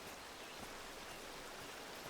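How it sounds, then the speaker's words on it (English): Waterfall in the video game Among Trees, a steady broadband rush of falling water filling the whole clip at an even level with no talk over it. "I'm just running up towards this lovely waterfall."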